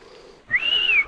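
A person whistles a single sustained, slightly wavering note outdoors on a shaded, tree-covered trail in strong wind, the tone rising in and holding clearly above a soft windy background.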